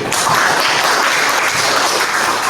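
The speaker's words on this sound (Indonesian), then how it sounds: "Tepuk tangan dulu." A classroom of students claps together, a dense, steady burst of applause lasting a couple of seconds with no pauses, close and fairly loud.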